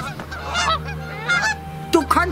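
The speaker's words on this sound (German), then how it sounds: "Die machten einen Lärm. Hab ich nicht gesagt, du sollst auf die Gänse aufpassen?" Geese honk in several loud, nasal calls, close by, scattered unevenly over a low steady hum, with a burst of overlapping honks near the end.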